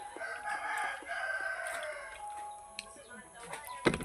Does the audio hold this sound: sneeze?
no